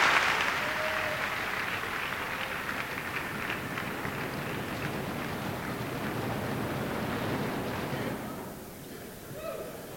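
A graduation audience at North High applauds the faculty, a broad sustained wash of clapping from a large crowd filling the hall for about eight seconds before tapering off, with a few voices near the end.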